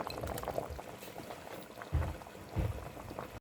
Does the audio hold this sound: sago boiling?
yes